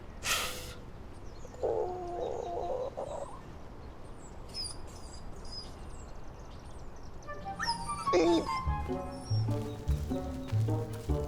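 A dog whimpers and yips in short bursts, with a few higher whines scattered across a quiet indoor background.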